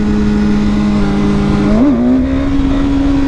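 A BMW S1000RR motorcycle engine drones loud and close at a steady pitch, then gives a brief blip and settles slightly higher as it pulls away.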